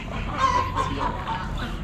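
Silkie chickens in three colors, penned at an Amish animal auction, give a steady low murmur of clucking and fowl calls close by, with no talk.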